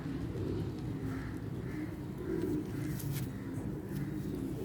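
Pigeons coo softly and repeatedly, several rounded calls in a slow rhythm over a low background hum.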